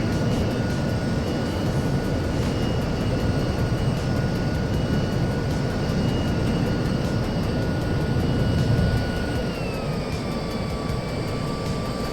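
Twin TF-30 jet engines overspeeding at high altitude in a flight simulator roar steadily, with a thin whine that slides lower near the end.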